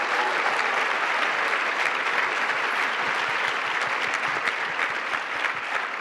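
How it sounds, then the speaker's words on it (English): Sustained audience applause for a panel at a local news community event, steady dense clapping filling the room throughout without a break. "can I have a round of applause for this amazing panel?"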